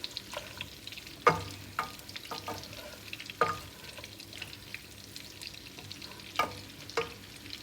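Onions sizzle gently in a pan for biryani while a spoon stirs them, with soft scraping strokes and a few sharper knocks over a steady, quiet frying hiss.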